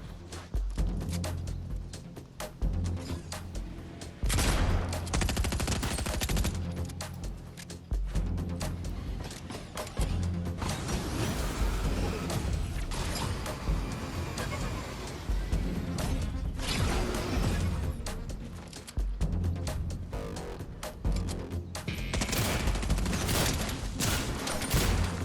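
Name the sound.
SMG gunfire in the video game Fortnite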